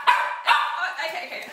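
Several pet dogs bark and yip close by in a short burst of excited, overlapping barks, repeated a few times in quick succession, with no talking over them.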